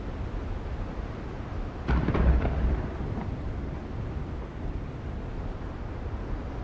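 A low rumble of thunder rolls through a stormy scene in the pirate survival game Windrose, swelling briefly over a steady background wash before fading back.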